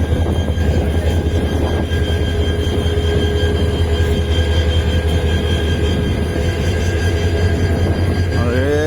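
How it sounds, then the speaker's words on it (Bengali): A train idles at Mymensingh railway junction, with a crowded station around it. A loud, steady, close engine rumble and drone continues throughout, and a rising tonal sound comes at the very end. "এই ট্রেনটা একটু আগে আইছে জামালপুর থেকে, এই কয়েক মিনিট আগে।"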